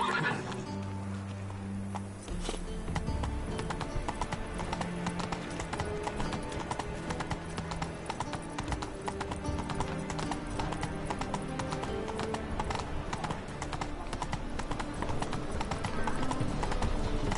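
A horse in The Witcher 3 gallops with rapid, steady hoof clip-clops and lets out a neigh, with game music and a voice underneath throughout.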